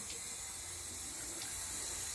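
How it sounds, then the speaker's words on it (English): Tap water runs steadily into a sink during a shave, rinsing off a razor or alum block, a soft continuous hiss and splash with no talking. "I'm just going to rinse this off here real quick."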